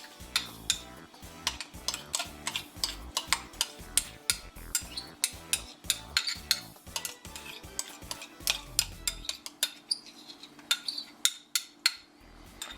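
A cottage cheese and sauteed onion mixture is spooned into a Ziploc bag held in a cup, with a steady series of sharp spoon scrapes and taps against the container, close and fairly quiet.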